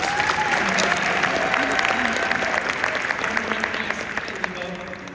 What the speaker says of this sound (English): Please put your hands together. Give her a big applause.